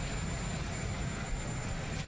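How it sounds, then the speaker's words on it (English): A helicopter departing with a former U.S. president aboard after an inauguration: a steady, loud engine and rotor roar held throughout, cutting off abruptly at the end. "the new president walked the former president to a waiting helicopter where Mr. Bush departed for his new home in Texas"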